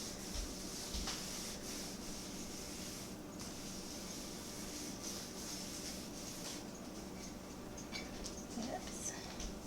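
A cloth rubs bacon grease onto a cast iron pan during seasoning, producing soft, continuous scrubbing and wiping sounds up close, quiet under occasional talk.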